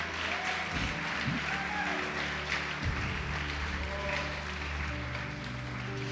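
A large church congregation applauds in sustained, even clapping that fills the room, with scattered voices calling out beneath it.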